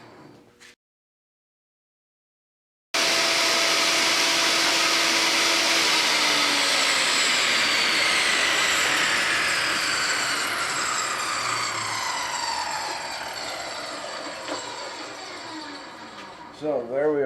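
After a brief moment of silence, a saw cuts loudly and steadily through wood for about fourteen seconds, throwing sawdust, then slowly trails off near the end.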